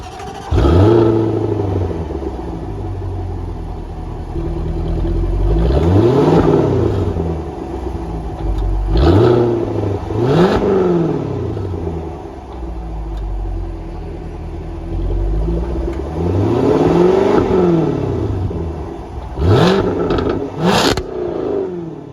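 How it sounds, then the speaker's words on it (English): Supercharged V8 in a 2024 Jaguar F-Type R75 revs repeatedly, each blip rising sharply and falling back over a deep rumbling idle, loud and close with no talk. "So very cool supercharged V8 from Jaguar."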